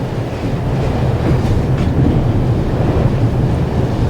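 Steady, loud rumble inside a moving Swiss passenger train, with continuous low rolling noise and faint rhythmic wheel clatter throughout, no talking.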